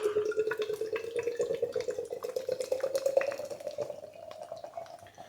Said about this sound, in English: what we'll do is we'll quickly pour this